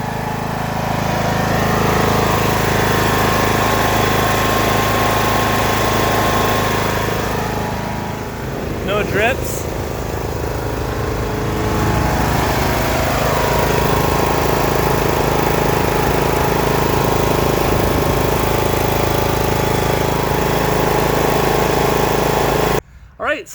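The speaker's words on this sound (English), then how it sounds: "The motor is idling a lot smoother." A lawn tractor engine idles steadily and close by after an oil change and tune-up, a rough, even putter that runs throughout, with a voice speaking briefly over it.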